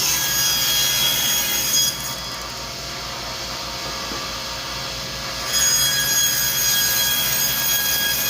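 An aggressive positive-hook saw blade cuts a groove in wood for Shaker doors, giving a loud, steady, continuous whine and rasp that shifts tone partway through as the cut changes, then returns to its first pitch.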